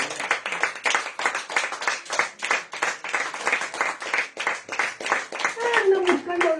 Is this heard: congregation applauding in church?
yes